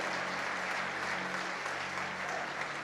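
A church congregation applauds the Lord in a steady, dense roll of clapping that fills the room for a few seconds, with no break.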